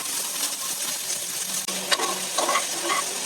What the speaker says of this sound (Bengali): এখন এই তেলের মধ্যে পেঁয়াজ দেবো।